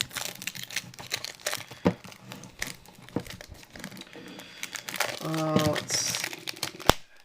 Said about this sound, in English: let me go ahead and just take the plastic wrap off here